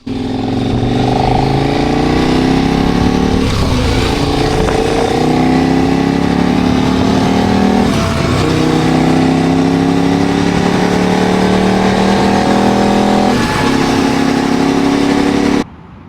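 A motorcycle rides through the Virginia countryside toward the Blue Ridge Mountains, its engine loud and close throughout, pitch climbing repeatedly as it accelerates through the gears, with constant wind rush beneath.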